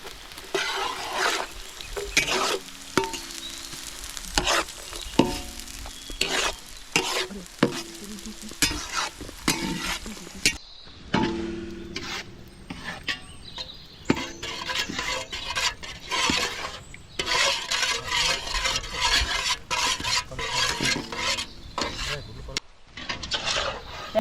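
Schezwan chicken fried rice with cabbage being stirred and tossed in a hot pan, rhythmic scraping strokes over a steady sizzle, close and prominent throughout with no talking.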